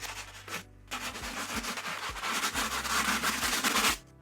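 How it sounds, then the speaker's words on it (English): A stiff bristle brush scrubs the midsole of an Air Jordan 1 Hi '85 Bred sneaker in quick rasping back-and-forth strokes, close and loud, with a brief pause early on. "we're going to move on to the harder bristle brush for the midsole"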